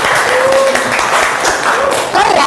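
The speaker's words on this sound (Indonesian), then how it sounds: "Tepuk tangan untuk Pak." A classroom of students applauds a teacher during an Indonesian language lesson, steady clapping filling the room at close range with faint voices and a few whistle-like tones over it.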